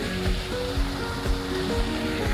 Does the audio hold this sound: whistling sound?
no